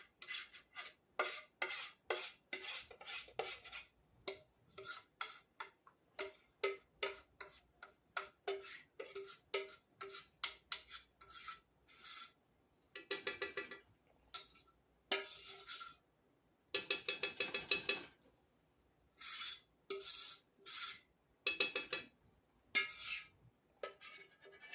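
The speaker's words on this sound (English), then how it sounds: "I try to scrape as much out of this pan as I can" Metal utensil scraping a cast iron skillet in rapid repeated strokes, a dense run of short rasping scrapes with brief pauses between bursts, close and clear with no talking.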